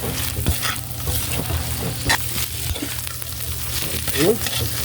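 Pork and eggplant stir-frying in a pan: loud, steady sizzling and crackling oil with occasional scrapes and clinks of a utensil stirring the food.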